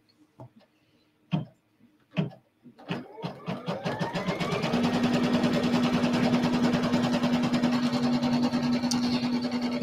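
A home embroidery sewing machine stitches a batting tack-down line for a pillow, starting with a few separate clunks, then building into a loud, steady, rapid mechanical whir with a sustained hum.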